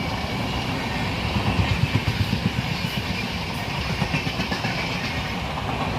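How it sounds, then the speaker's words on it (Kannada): A passing train outside a stationary non-AC passenger coach, its wheels beating a steady clickety-clack of rail joints over a continuous low rumble, fairly loud and close, with no voices. "ಇನ್ನೊಂದು ಟ್ರೈನ್ ಸಹಿತ ಹೊರಗಡೆಯಿಂದ ಹೋಗ್ತಾ ಇರೋದು ನೋಡ್ಬೋದು"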